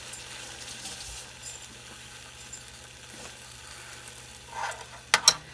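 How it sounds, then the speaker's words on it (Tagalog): Beef back ribs frying in a little oil in a pan, a soft steady sizzle running underneath, with a brief clink of a utensil and a louder stir or scrape near the end. "Kaunti lang mantika ito langga kasi mayroon ng oil yung bibi back ribs."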